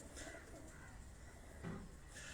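Pigeons kept by a breeder coo softly in low repeated phrases, faint and somewhat distant, over a constant hiss of background noise.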